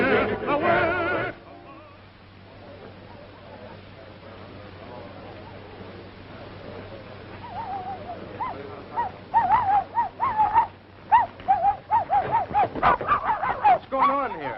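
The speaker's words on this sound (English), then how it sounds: "Sounds like your dog's gone falsetto when you run through." A dog howls in a high, wavering falsetto, rising in repeated drawn-out cries that grow louder toward the end after a quieter, muffled stretch.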